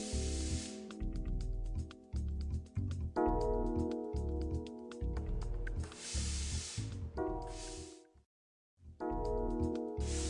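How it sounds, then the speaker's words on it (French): A Laurastar S7 iron releases steam in repeated hissing bursts, loud and close over a background of music, with a brief pause before the hiss resumes. "Il est également possible de commander la vapeur manuellement en positionnant le bouton du fer sur Man et en pressant le bouton vapeur"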